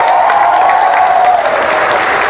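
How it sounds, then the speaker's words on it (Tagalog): Loud, dense applause from a church congregation during a worship service fills the moment, a continuous close wash of clapping with no pauses. "tulad ng inyong malakas na palakpak sa Diyos"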